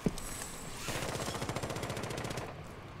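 A fast, rhythmic burst of automatic gunfire in Rainbow Six Siege, starting with a sharp shot and rattling steadily for about two seconds at moderate distance.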